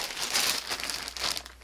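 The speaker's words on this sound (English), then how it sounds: "Now, this is a posh plastic bag." A plastic bag from a wool supplier is crinkled and handled close by, crisp rustling bursts rising and falling over under two seconds with no talking.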